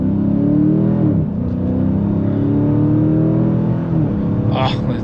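A 2023 Dodge Challenger R/T ScatPack Swinger revving and accelerating, its loud engine climbing in pitch through gear changes, heard close from inside the car.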